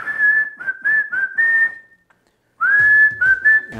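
A person whistles a short tune, several clear phrases, a pause, then more whistling, close and loud with no talk.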